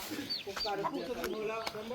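Chicks cluck and cheep in quick, overlapping calls close by on a rural Thai-Lao homestead, mixed with a voice talking over them.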